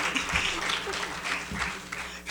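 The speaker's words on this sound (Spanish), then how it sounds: "Lo despedimos con un aplauso, por favor" An audience at a talk or event applauds with a brief burst of scattered clapping that is fairly faint and under some background voices.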